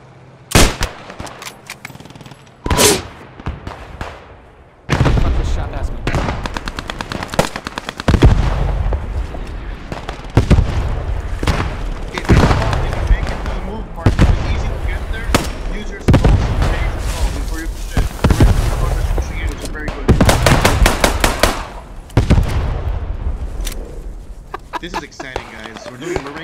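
Sniper rifle fire in the video game Post Scriptum, a string of loud, sharp cracks and booms recurring every few seconds amid further distant gunfire, with someone talking over the shooting.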